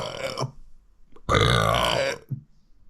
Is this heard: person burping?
yes